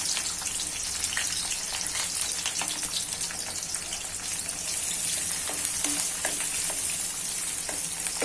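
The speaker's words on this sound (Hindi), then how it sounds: "अब ये ऑयल जो है वो गरम है हमारा, तो इसके अंदर हमने ये अनियन डाल देने हैं" Onions sizzle and crackle steadily in hot oil for a biryani masala, a dense, even frying hiss with scattered pops and occasional stirring, close and continuous with no talk.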